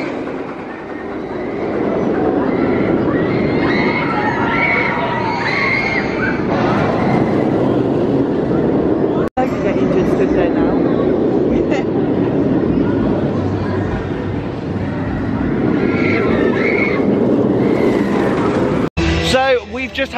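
A roller coaster ride on Full Throttle at Six Flags Magic Mountain, with a loud, steady roar of wheels and rushing wind running continuously, riders' voices mixed in, cut off abruptly at the end.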